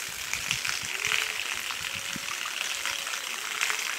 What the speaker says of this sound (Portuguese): E olha aí a carreira d'água.